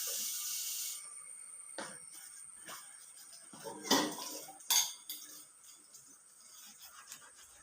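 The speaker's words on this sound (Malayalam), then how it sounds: "പാത്രങ്ങൾ കഴുകാൻ പോവുകയാണ്." Dishes, pots and cutlery are washed by hand in a village home: scattered clinks, scrapes and clatters of metal utensils, with a few sharper knocks, close by and mostly alone, after a brief burst of running water at the start.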